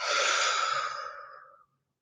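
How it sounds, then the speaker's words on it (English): A single deep, audible exhale, a close breathy sigh of air that fades out smoothly over about a second and a half, followed by silence. "let's go ahead and take another breath in and out."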